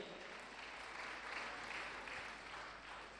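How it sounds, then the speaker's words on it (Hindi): Sustained applause from an audience at a Jain religious discourse gathering, steady and dense for the whole stretch, swelling slightly in the middle before easing, with no voices over it. "ऐसे व्यक्तित्व के लिए आप जोरदार ताली बजाकर का सम्मान करें"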